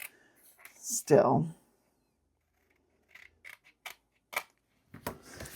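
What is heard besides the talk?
scissors cutting paper for a box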